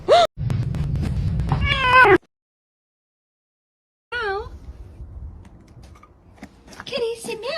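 A cat meows several times up close, rising and wavering calls in two bursts split by a silent gap, with a person talking around them.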